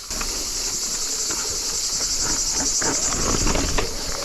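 Cicada song as a steady, dense high-pitched drone running unbroken throughout, with faint scattered rustles and clicks beneath it outdoors.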